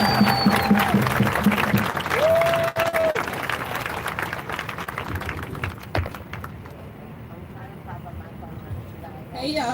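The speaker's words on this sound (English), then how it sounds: "Y'all need to give a big round of applause up for Lindsay." Crowd applause at a rally for Elijah McClain, steady outdoor clapping and scattered voices that carry on for several seconds before thinning out, with some talk and a brief whistle-like tone in the mix.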